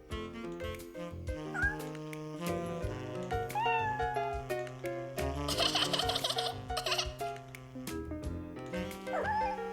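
Several short, high kitten meows pop up over a lively music track in an animated cartoon, scattered rather than rhythmic.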